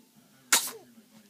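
A single sharp sneeze, close and brief, bursts out over a quiet indoor background.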